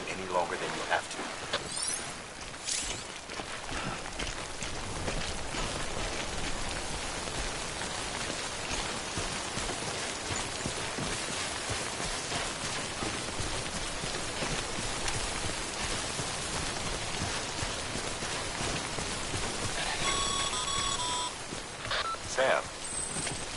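Steady rain, the timefall of the video game Death Stranding, hisses densely and evenly across the whole stretch, with a few brief electronic beeps near the end.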